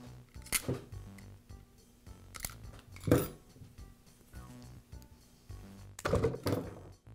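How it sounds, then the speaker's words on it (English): Old fuel line is snipped off the fuel filter of a leaf blower: several short, crisp cutting clicks and snaps spaced a second or two apart, close by and fairly quiet, with light handling noise between them and no talk. "I'll cut the old fuel line off of the filter"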